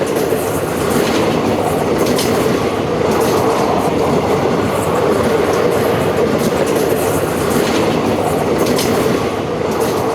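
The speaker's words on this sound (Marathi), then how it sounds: "करबुडे बोगद्यातून ही गाडी जाताना दिसते आहे" A train rumbles continuously through the Karbude tunnel on the Konkan Railway, a steady, dense roar with faint rhythmic clatter, loud and close, with no voices.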